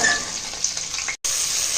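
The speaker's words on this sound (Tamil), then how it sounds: "இப்போ நறுக்கி வச்ச காய்கறிகளை அதோட சேர்க்க போகிறோம்." Steady loud sizzling of chopped vegetables frying in a pan for vegetable biryani, with faint stirring, broken by a brief silence.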